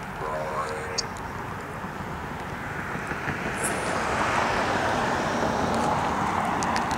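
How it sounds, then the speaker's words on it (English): Road traffic swells past, a broad engine and tire rumble that grows louder in the second half as a vehicle approaches, with a steady wash of passing-car noise throughout. "Darn cars making so much noise."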